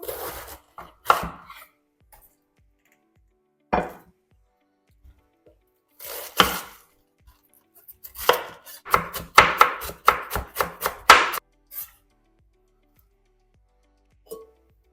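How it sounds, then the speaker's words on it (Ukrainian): A knife chops cabbage on a board in scattered strokes, then a fast run of about a dozen crisp, even cuts, with pauses between. "Нарізаю капусту."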